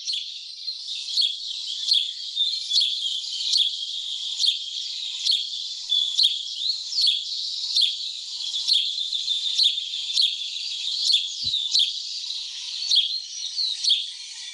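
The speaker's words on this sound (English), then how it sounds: "Let me try and get the house sparrow." House sparrow calls played back from the Sasol birds app: a repeated series of bright chirps at an even pace, fairly loud and clear, with no talking.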